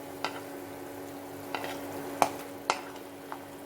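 Fried coiled tea-stall puri is stirred briefly in warm sugar syrup. A few sharp, close clinks and scrapes stand over a faint, steady hiss.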